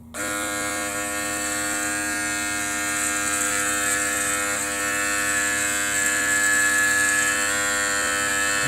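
A Mangroomer back hair shaver runs close by with a constant high electric buzz and hum, steady and loud for the whole stretch, alone without talk.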